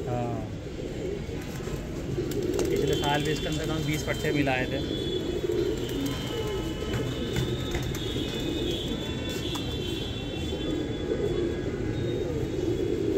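Gardaan pigeons of an Amroha flock coo in soft, low murmurs with occasional rustles, heard beneath someone talking nearly the whole time.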